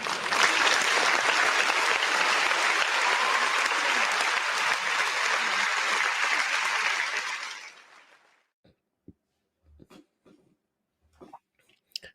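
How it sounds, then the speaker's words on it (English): Broad crowd applause during a Michigan vs Ohio State football watch-along after a field goal, steady and loud for about eight seconds, then fading out to near silence with a few small knocks and rustles. "let's give a round of applause for Zavada."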